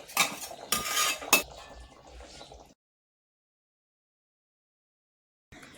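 Metal lid set down on a pot of Konkani-style prawn curry, a few sharp clanks and rattles in the first seconds, then quiet until a faint sound returns at the very end.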